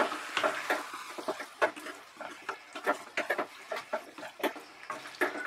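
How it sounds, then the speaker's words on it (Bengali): Masala being stirred into chicken in a pan on low heat for methi chicken, repeated close scraping and squelching strokes in an uneven rhythm over a faint sizzle, with no voices. "ভালো করে চিকেনের সঙ্গে এটা মিশিয়ে দেব"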